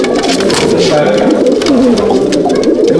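Paired pigeons in a loft in Halisahar, North 24 Parganas, coo steadily and close by, with a low continuous murmur of birds throughout.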